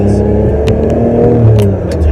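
Ferrari 550 Maranello V12 engine pulls hard on an open road, a steady loud drone with a brief dip where a gear clicks in, continuous for about two seconds.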